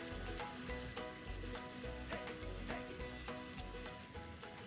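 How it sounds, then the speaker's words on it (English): Mutton frying with turmeric and coriander powder sizzles steadily in a pan, a close, continuous crackle with faint rhythmic scraping throughout. "Back again to the frying."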